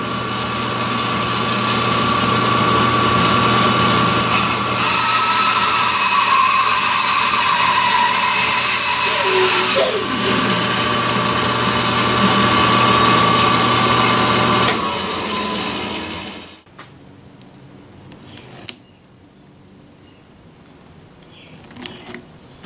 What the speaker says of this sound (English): So I'm going to take it over to the bandsaw, cut that off